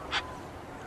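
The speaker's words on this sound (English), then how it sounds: "This is alarm calls recorded in North Dakota" A recorded short-eared owl from North Dakota gives a single brief, harsh alarm call that stands out clearly over a soft background hiss.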